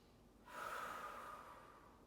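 A single long, forceful breath during an at-home lower-body and glute workout, rushing in after a brief quiet start and holding steady before easing off, close and alone.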